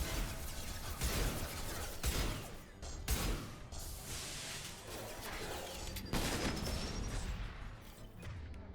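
Gunfire in Mass Effect 2 comes as a dense, sustained barrage of sharp shots and blasts with booming impacts over a continuous roar of battle noise, heard without talk.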